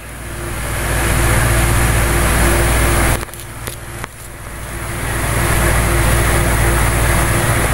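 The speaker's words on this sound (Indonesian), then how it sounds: "Manasi mesin dulu." Car engine warming up at idle, a steady low rumble that briefly dips and falters for about a second midway before settling back to an even drone, with no voices.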